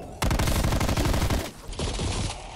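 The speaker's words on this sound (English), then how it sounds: "I didn't realize that when I picked this LMG" A light machine gun with a 50-round magazine fires in a zombie-mode video game as a loud, dense, continuous burst. The shots stop briefly and then resume in a second sustained volley.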